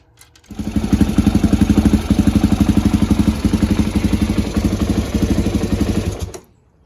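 A Suzuki DRZ-400 motorcycle engine starts and runs at a steady idle close by, giving a loud, even, rapid thumping pulse for about six seconds before it cuts off abruptly.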